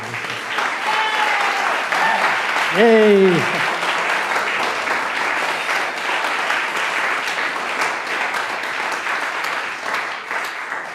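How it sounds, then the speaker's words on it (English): Sustained applause from a lecture audience, a broad steady roar of clapping that holds for several seconds while a voice briefly cheers and another calls out over it near the start. "let's take a few seconds more to applaud this again."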